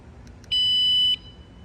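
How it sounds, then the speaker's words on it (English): Alarm on a 55 mph electric bike build: two quick faint chirps, then one loud, sustained high electronic beep lasting just over half a second before cutting off. "I got a alarm on here"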